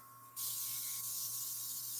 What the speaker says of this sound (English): Now we can start to spray.